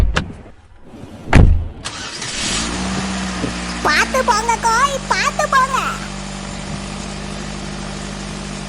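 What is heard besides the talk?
car driving off in a cartoon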